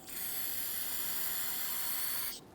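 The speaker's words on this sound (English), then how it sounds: "I'm going to take some solvent here, spray it inside." A continuous aerosol spray of solvent hisses close up for about two seconds inside a rear brake part of a Dodge Charger, then cuts off abruptly.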